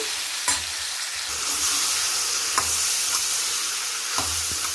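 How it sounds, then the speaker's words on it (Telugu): Mushrooms fry with a loud, steady sizzle in a pan for a dhaba-style cashew mushroom curry, while a spoon stirs and scrapes the bottom with occasional soft knocks against the pan. "బాగా తిప్పుకోవాలండి అడుగు అడుగు నుంచి కింద నుంచి పై వరకు మొత్తం తిప్పుకోవాలి"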